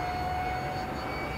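A model jet aircraft makes a low pass overhead, a steady broad turbine roar with a thin high whine, loud and continuous for a moment with no talking.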